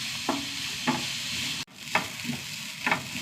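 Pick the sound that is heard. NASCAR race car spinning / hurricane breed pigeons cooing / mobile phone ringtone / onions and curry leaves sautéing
onions and curry leaves sautéing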